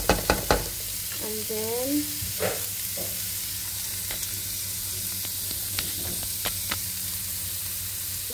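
Rice with garlic, onion, carrot, green peas and shredded chicken stir-frying in a pan, a steady close sizzle with a few sharp clinks of the utensil and scraping stirs, and a brief voice near the start.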